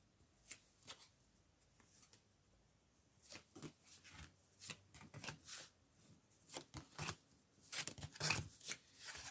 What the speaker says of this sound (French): Maintenant, on va tirer des cartes sur l'homme en question.